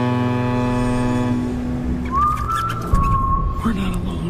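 A single sustained whistled note, the Steamboat Willie whistle, glides up and holds steady over a musical background, ending after about a second and a half.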